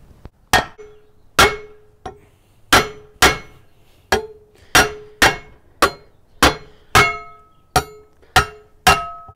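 Hammer blows on a piece of wood held against a BRABUS Monoblock wheel to knock its face off, about thirteen sharp, evenly spaced knocks with a faint ring after each, close and alone.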